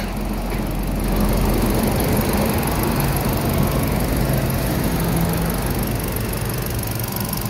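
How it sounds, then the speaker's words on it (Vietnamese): A 2019 Kia Morning with automatic transmission idles smoothly, its engine giving a steady, even low hum that holds at a constant level throughout with faint background noise and no talking. "máy nổ rất êm luôn nhé"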